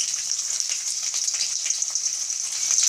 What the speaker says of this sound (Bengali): পেঁয়াজটা নাড়াচাড়া দিয়ে ভেজে নেব।